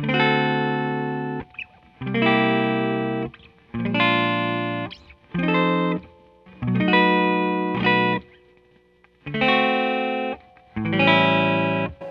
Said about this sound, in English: A 7th chord sounds like this.